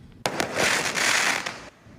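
Fireworks set off in Taiwan during the Mid-Autumn Festival: a sudden loud burst followed by about a second and a half of dense crackling, then a quick fade.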